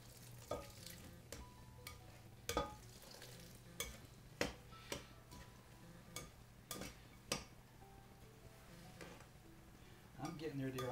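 Milk being stirred into turkey stuffing in a pan, a spoon scraping and knocking against the pan in irregular strokes over a faint low hum, quiet and close.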